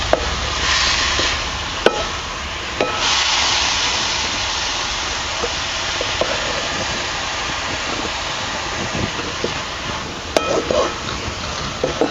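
Amaranth greens stir-fry in a pan over a village wood-fired stove, giving a continuous hiss and sizzle with occasional scraping stirs, while someone talks over the cooking.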